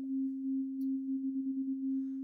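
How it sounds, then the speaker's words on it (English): A plain sine-wave tone from the FM8 software synthesizer holds one steady pitch throughout, with a tremolo that pulses its loudness in a quick, even rhythm partway through. It sounds alone and clean. "So if I turn on the tremolo,"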